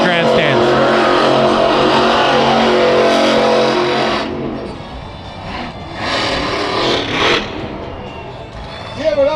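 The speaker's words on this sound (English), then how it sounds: "Again on the gas pedal, launching Bigfoot through the center of the track." The Bigfoot monster truck roars at a freestyle show at the Antelope Valley Fairgrounds in Lancaster, California. A loud engine note is sustained, then drops back before surging in several revving bursts, with an announcer talking over it.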